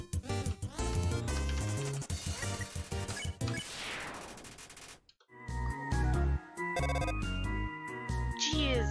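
A phone rings in the video game Undertale, a repeated electronic ringtone jingle playing loudly among busy game music and effects, with a short drop to silence partway through.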